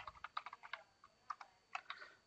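Keys clatter on a computer keyboard as code is typed, with quick bursts of clicks and brief pauses, close and fairly quiet in a still room.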